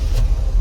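Tow truck engine pushing into deep water, a low steady rumble close by with a brief splashy rush, alone without talk.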